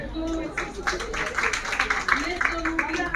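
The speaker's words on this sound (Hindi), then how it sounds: "तो तालियां हो जाए।" An audience at an International Women's Day awards ceremony breaks into clapping, a rapid patter of hand claps building up while a voice talks underneath.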